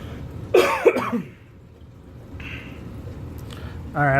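A sick person coughs twice in quick succession close to the listener, then quiet room tone with faint background sounds follows, and at the end a voice briefly starts speaking.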